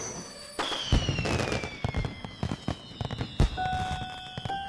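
Cartoon fireworks launch and burst in a rapid series of crackling pops and bangs, with whistling streaks gliding down in pitch, dense and loud throughout.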